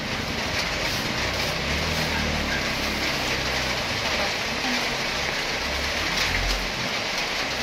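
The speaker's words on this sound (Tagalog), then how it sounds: "Maulan pa naman." Steady rain falls continuously as a dense, even hiss throughout, fairly loud and close, with a low rumble underneath and no clear talk.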